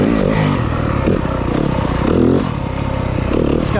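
A 2023 Yamaha 250FX four-stroke dirt bike rides through woods, its engine loud and close, revving and easing in uneven surges with clatter and scraping from the trail.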